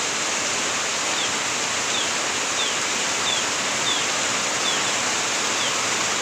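Heavy rain pouring down outdoors, a dense, steady hiss that stays loud and even throughout, with no talk.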